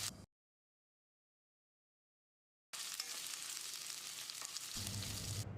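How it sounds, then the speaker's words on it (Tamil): Curry leaves, ginger and crushed garlic sautéing in a pan for a coconut-milk fish curry: a brief burst, a long silence, then a steady, close, loud sizzle that runs on without a break. "கொஞ்சமாக கறிவேப்பிலை, 2 இன்ச் அளவுக்கு இஞ்சி, 4 பல் பூண்டை தட்டி வச்சிருக்கேன், இதையும் போட்டு வதக்கிடலாம்."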